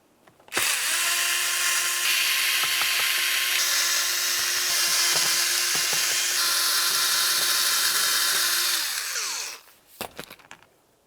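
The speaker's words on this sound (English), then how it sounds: "you have 5 Phillips head screws holding this trim panel in place. Remove all of them." A power drill or driver whirs steadily for about nine seconds, backing Phillips head screws out of a trim panel on a 2000-2006 Chevy Tahoe, then cuts off, followed by a few faint clicks.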